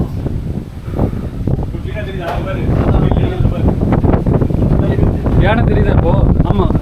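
Strong wind buffets the microphone with a constant low rumble while people talk outdoors over it at a trekking viewpoint in the hills.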